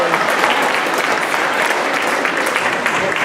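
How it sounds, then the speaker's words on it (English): Loud, steady applause from a school assembly audience at a middle school Black History Month event, dense and continuous throughout with no pauses. "Let's give them a round of applause"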